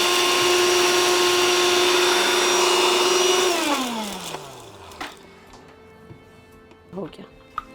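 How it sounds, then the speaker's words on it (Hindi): A blender grinding borax and mustard seeds into powder roars loudly and steadily, then its motor pitch drops as it spins down, followed by a few knocks and clatters of the jar. "और इसको बहुत ही अच्छी तरीके से ब्लेंड कर लेना है,"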